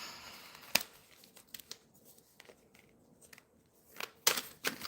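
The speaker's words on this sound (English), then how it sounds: "Give this bad boy another shuffle." Crisp papery snaps and riffles of tarot cards being shuffled, a sharp burst near the start and a louder flurry toward the end, with quiet rustling between.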